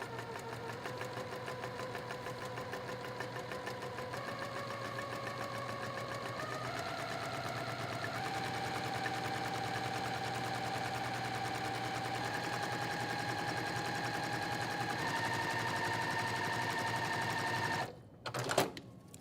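A sewing machine runs steadily while stitching a quilt line on a scrappy Americana flag quilt, giving a fast even mechanical whir and rattle with a shifting motor tone, close and unbroken until it stops near the end.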